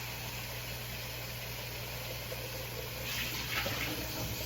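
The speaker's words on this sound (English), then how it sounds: "I'm just filling the bowl with hot water." Hot tap water runs steadily into a bowl in a home kitchen, a soft continuous hiss and rush at moderate distance, with no voices.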